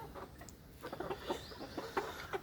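Chickens clucking softly while pecking at wheat mixed with feed, several short quiet clucks and murmurs in an irregular rhythm, fairly close but faint, with no talking.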